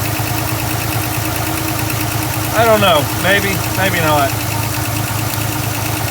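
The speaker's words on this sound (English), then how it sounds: "Listen to that Butte idle" The engine of a 1966 RV idles with a steady, loud, low rumble and a slight knock. A battery that doesn't fully charge may come with an alternator or starter taken from another engine. Someone speaks briefly over the continuous idle.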